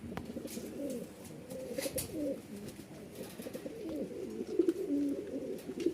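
A female pigeon coos in soft, low repeated bursts, fairly close, with light rustling and small background noises between the calls.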